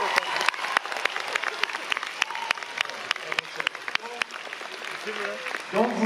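Festival audience applauding at the Festival Lumière 2025 in Lyon, a crowd of scattered claps with sharp individual hand claps standing out, with voices murmuring underneath and a brief voice near the end.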